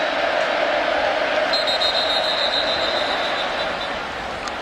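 A loud, dense roar from a stadium crowd at a college football game, Texas A&M against Ball State, sustained and distant-sounding, fading slightly toward the end.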